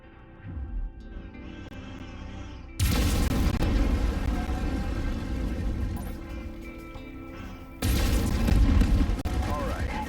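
Mech lasers firing in the video game MechWarrior 5 Mercenaries, loud sustained bursts of weapon fire with booming impacts, kicking in abruptly, dropping briefly, then surging again, over a steady cockpit hum.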